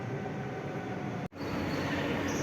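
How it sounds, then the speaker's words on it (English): Interior of a moving passenger train heading toward Salon-de-Var: a steady, loud rolling rumble that cuts out briefly for an instant midway, then resumes, with no talk. "So I've opted to take the train to Salon-de-Var before heading up to Saint-Genès with the bus."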